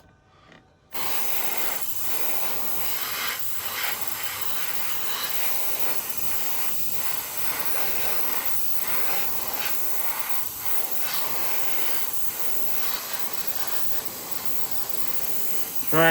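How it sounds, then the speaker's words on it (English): Steady hiss of an aerosol spray can painting a 1972 Chevy Fleetside model truck, a continuous close spray running about fifteen seconds after a brief quiet start, with faint intermittent voices underneath. "Trying not to go too heavy on the spray."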